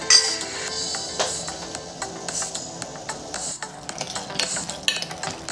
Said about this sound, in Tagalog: Haluin natin hanggang sa ito ay kumulo.